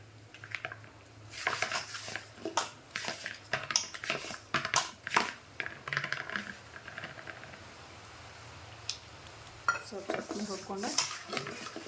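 Flour dough for a festive home meal is kneaded firmly by hand in a bowl, with a series of irregular thumps, squelches and light clatters, some close together and some spaced apart, and no talking.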